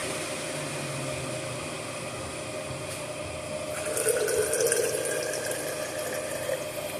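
Water runs steadily from a leaking fitting while rinsing something out, with a continuous wash of flow that grows louder and more spattery about halfway through as it spurts, no talking.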